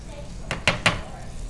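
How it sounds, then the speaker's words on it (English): A spoon stirs a pot of boiling water for white rice, making three quick metallic clinks against the pot over a low, steady background. "I'm just gonna stir that."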